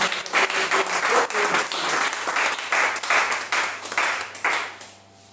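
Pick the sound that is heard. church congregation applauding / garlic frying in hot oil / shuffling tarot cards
church congregation applauding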